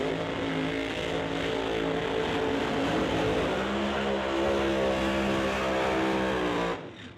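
A 1969 Camaro drag car roars through a loud burnout at a Pro Modified drag strip starting line, a sustained high-revving engine howl with shifting pitch that cuts off abruptly near the end.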